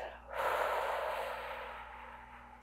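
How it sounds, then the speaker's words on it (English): A long, steady exhale during a yoga breathing exercise, a soft breathy rush close to the mic that starts after a brief pause and fades slowly over about two seconds. "And exhale."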